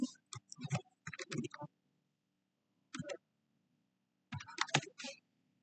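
Short bursts of keys being typed on a computer keyboard, coming in quick clusters with gaps of silence between them, quiet and close, with no voices.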